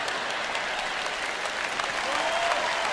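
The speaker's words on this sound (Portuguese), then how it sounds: "Vocês não estão aplaudindo muito forte." A church audience applauds in a steady, even wash of many hands clapping at once, moderately loud throughout the short stretch, with no distinct voices over it.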